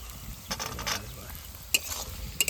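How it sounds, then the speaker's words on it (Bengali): Peas sizzle and fry in a pan with ginger-garlic paste while being stirred for fried rice, with steady close crackling and scattered scraping clicks of the spoon, no talk. "এইদিকে কিন্তু মটরশুটিটাও দিয়ে দিলাম"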